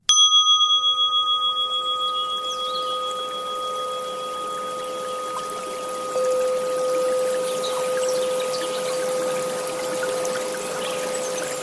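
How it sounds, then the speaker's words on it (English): Meditation recording of a babbling brook, a soft continuous trickle of flowing water under sustained bell-like tones that ring on throughout. "I have a bed of like a river, a little babbling brook."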